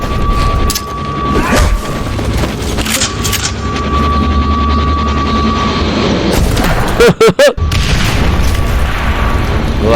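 Loud booming blasts and cracks, heavily distorted and clipped, with a sustained rumble and a sharp burst of rapid shots near the end.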